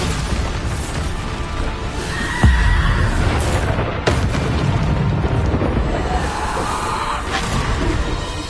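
Bombarda explosion spell cast in Hogwarts Legacy: loud, dense blasts of crackling, booming noise, with sharp impacts standing out over a constant roar of game effects.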